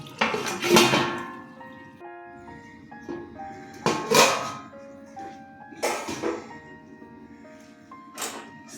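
A metal lid clanks onto a cooking pot of cauliflower rezala on the stove, a few sharp clinks and scrapes ringing out close by over a steady hum, with no one talking.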